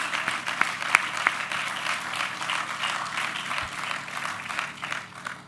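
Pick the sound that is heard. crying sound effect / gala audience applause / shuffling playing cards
gala audience applause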